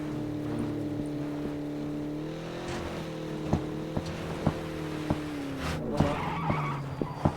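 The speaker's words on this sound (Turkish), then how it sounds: "Aa, araba takla atıyor." A car in the PUBG video game flips and skids, with a droning engine hum broken by a series of sharp knocks and scrapes as the vehicle tumbles.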